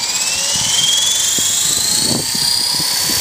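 An EXI 450 radio-controlled helicopter with an EXI 3900 motor and a 25 amp ESC whines loudly and steadily close by, a high turbine-like pitch slowly rising.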